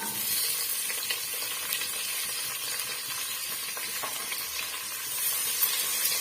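Sliced onions and curry leaves sizzle in hot oil, a loud, continuous close-up crackling hiss that stays even throughout with small pops and no voices.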